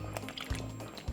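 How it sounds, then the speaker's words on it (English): Milk poured into a pot of thick Jamaican coconut cornmeal porridge, giving a brief liquid splash and squish with soft low thuds, close and fairly quiet. "Just simple, add a little bit more milk"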